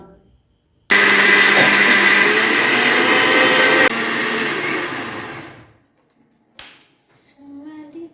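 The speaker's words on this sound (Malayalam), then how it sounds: "ഞാൻ രാവിലേക്ക് വേണ്ട പച്ചരി വെള്ളത്തിട്ടായിരുന്നു അതൊക്കെ ഒന്ന് അരച്ചെടുക്കട്ടെ കേട്ടോ" A blender grinds soaked raw rice in a home kitchen, a loud steady whir for about five seconds that drops in pitch midway and winds down, followed by quiet clatter.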